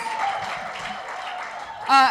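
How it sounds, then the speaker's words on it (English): Guests at a dinner gala applaud Melissa and the coaches with a steady wash of clapping, a voice cutting in loudly at the end. "A big round of applause for Melissa and all the coaches."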